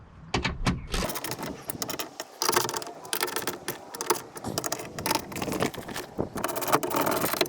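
Bolts are tightened on the driver's side window motor and regulator of a 2015 Nissan, producing close, irregular metallic clicks, rattles and ratcheting bursts with short pauses between them.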